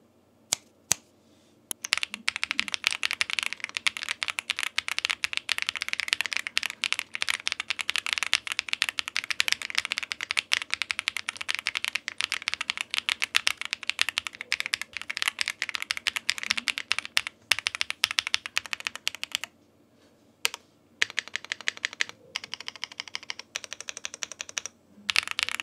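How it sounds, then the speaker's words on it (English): Typing on a Zoom 75 Tiga mechanical keyboard fitted with echo switches: a continuous, close stream of quick key clacks, with a few brief pauses near the end. "today I will show you just how this keyboard sounds with echo switches"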